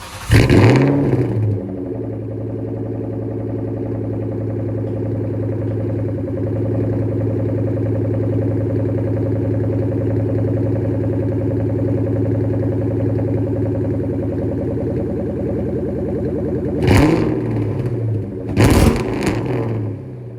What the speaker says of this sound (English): this exhaust is loud and it is rowdy and it's awesome